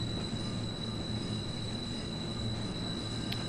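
A train rolls steadily along the rack line in Train Sim World 4's Arosa Aggregates route, climbing a steep 6% grade, with a continuous low rumble, a faint high whine and wheel noise throughout.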